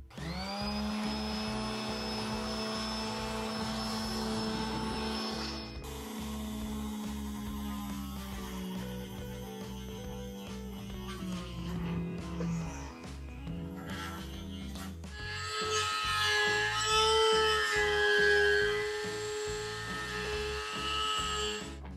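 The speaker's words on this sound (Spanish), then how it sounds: "ponernos a cortar el agujero del desagüe y toda la instalación" A power tool cuts a drain hole through a homemade fiberglass shower tray for a camper truck, a loud steady whining drone with shifting pitch that runs nonstop and rises in intensity toward the end.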